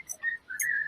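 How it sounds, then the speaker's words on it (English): A pet bird whistles a quick pair of bright, clear chirps and warbling notes, close and fairly faint, lasting under a second. "Dan, is that your bird?"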